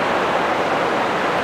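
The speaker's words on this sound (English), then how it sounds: "With this waterfall that we just found, just sitting around taking photos of it" Steady broadband rush of a waterfall in a Peak District cave, dense and continuous without breaks, fairly loud and close, with no voices over it.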